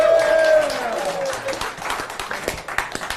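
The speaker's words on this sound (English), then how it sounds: "give her a big round of applause." Audience applause and clapping from a crowd at a live quiz-style show, a dense patter of many hands with a tonal ringing sound at the start and voices mixed in.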